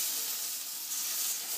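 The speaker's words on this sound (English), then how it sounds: "We are frying bacon here in a sauna." Bacon frying in a pan inside a sauna, a constant bright crackling sizzle with a soft hiss, close and steady.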